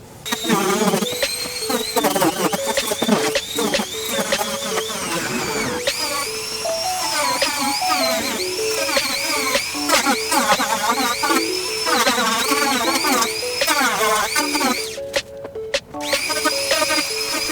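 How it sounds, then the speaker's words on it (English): Rotary tool sanding the trim of an aluminum Tacoma bumper, whining in a continuous high buzz that rises and dips as it bears on the work, loud and close, with no voices. "using that rotary tool like that to kind of sand it up"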